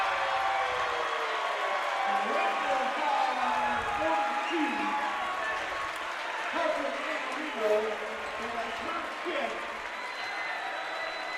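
A crowd at a girls' high school tournament basketball game applauds a player from Granville, a sustained, moderately distant patter of clapping with scattered cheers and commentators talking over it.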